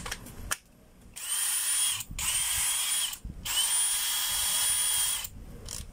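A power drill driving a screw, heard as three long, loud, steady whirring bursts, close up, with brief pauses between them and no talking.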